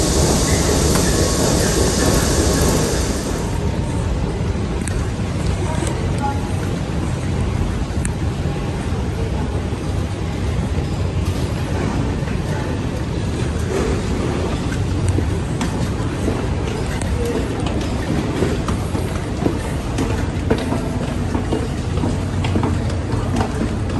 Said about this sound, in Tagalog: Nandito na yung train